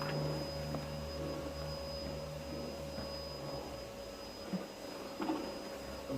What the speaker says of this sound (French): Je me rapproche parce qu'il y a l'aspirateur.